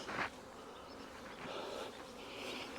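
Honeybees hum in a steady, faint drone around an open hive lifted with a hive lifter during queen-cage removal, with a brief louder buzz at the start as one passes close.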